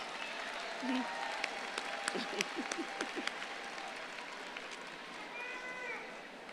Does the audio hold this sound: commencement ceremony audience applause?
yes